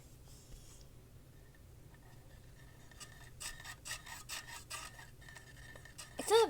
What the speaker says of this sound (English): You can hear it whirring.